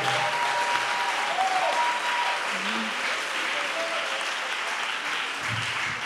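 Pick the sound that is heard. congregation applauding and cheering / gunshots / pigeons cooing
congregation applauding and cheering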